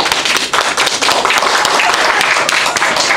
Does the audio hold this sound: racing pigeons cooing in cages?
no